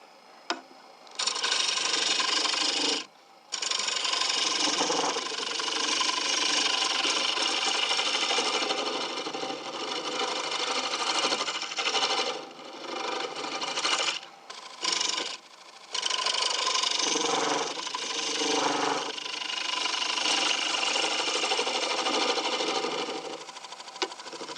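A bowl gouge cuts a wooden bowl spinning on a lathe, producing a loud, continuous rasping scrape that runs almost without pause, broken by a few brief gaps where the tool lifts away.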